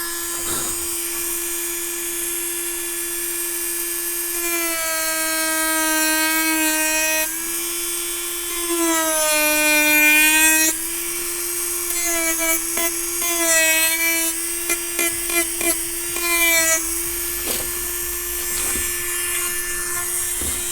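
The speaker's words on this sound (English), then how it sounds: "I'm going to use a roto tool." A handheld rotary tool sands the edge of a vintage Barnstormer 25S RC plane fuselage, giving a steady high whine broken into repeated bursts as the bit presses into the material and then eases off.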